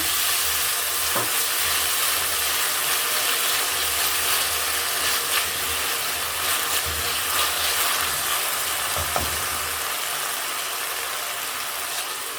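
Tomatoes sauté with onions in a hot pan, giving a steady close sizzle broken by the scrape and clatter of a spoon stirring, continuous and fairly loud throughout.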